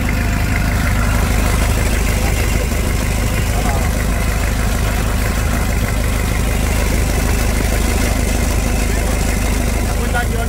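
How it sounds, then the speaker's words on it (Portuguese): Worn pin and connecting rod knocking in a 1997 Toyota SW4 3.0 turbo diesel engine, a loud continuous rattling idle with rapid regular knocks and no pauses. "Esse barulho do motor de pino, de biela"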